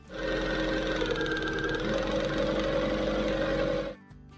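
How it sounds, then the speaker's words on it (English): A car engine idles with an uneven, lumpy rumble and rattling knock, running steadily before cutting out near the end. "car runs weird when idling"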